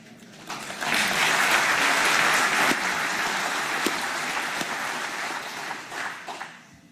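Sustained applause from a political party conference audience after a sermon, dense clapping that swells quickly and holds steady before tapering off near the end, with no talking over it.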